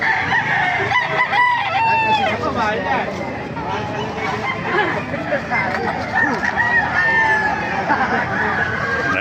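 Roosters crow repeatedly while hens cluck nearby at a market in Baliuag, a busy chorus of fowl over a murmur of people talking in the background.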